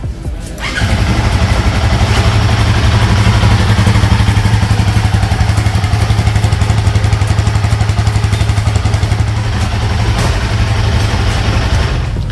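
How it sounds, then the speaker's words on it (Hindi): A motorcycle engine fires up and settles into a loud, steady, thumping idle close by, with a rhythmic mechanical clatter throughout. "मैं आपको इसका भी थ्रॉटल सुना देती हूँ। तो स्टार्ट करेंगे इसको।"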